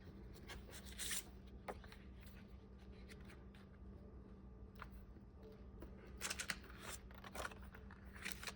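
Scissors trim an acetate sticker sheet with a few faint, crisp snips and rustles set against a quiet, steady background hum.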